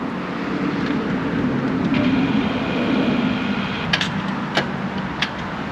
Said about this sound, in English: In contrast, I'm now going to start up the 2017 SCR950.